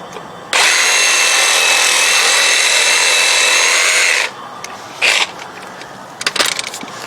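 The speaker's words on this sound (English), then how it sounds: "This one, I think I'm gonna cut the roots at the bottom too." A power tool cuts through the roots at the bottom of a potted fig tree during up-potting, a loud steady whine lasting about four seconds, followed by a short burst and some scraping and rustling.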